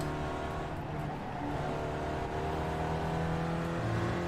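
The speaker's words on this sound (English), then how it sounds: "I'm still revving it too high" Race car engine revving in the iRacing simulator, held at high revs. A steady, droning whine rises and sustains throughout at close range, with no talk over it.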